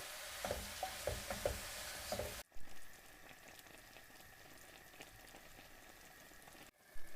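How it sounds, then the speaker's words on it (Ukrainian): Button mushrooms sizzle and bubble in a frying pan after onions, with a soft, steady hiss that has stirring clicks early on, then turns quieter and steadier. "І обсмажуємо, щоб печериці пустили сік."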